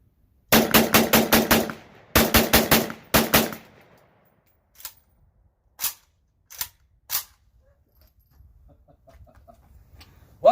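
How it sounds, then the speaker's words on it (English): A rusted AK rifle with missing parts, wrapped in rag, fires outdoors in three rapid bursts of several shots each, followed by a few sparse single shots with quiet gaps between them. "I'm actually going to try to shoot this thing using nothing but the original Viet Cong rag method"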